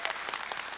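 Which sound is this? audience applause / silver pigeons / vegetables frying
audience applause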